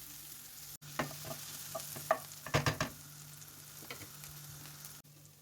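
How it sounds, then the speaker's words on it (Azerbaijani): Grated garlic crackles and fries in hot oil while a utensil stirs it in quick bursts. Several sharp scraping strokes come near the middle, and nobody speaks. "Rəndələnmiş sarımsağın bir hissəsini yağın içərisinə əlavə edib 1 dəqiqə qovururam."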